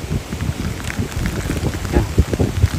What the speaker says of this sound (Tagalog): medyo lumakas po yung ulan